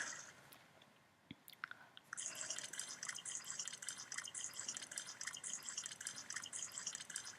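Water splashing in the horror video game Misao, a dense, steady wash of spray and dripping that starts after a short quiet stretch and keeps going close and fairly loud.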